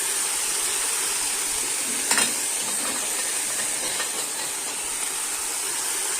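Meat browning in a pot for soup, a steady broad hiss of sizzling with one brief louder crackle partway through, close and even, no talk.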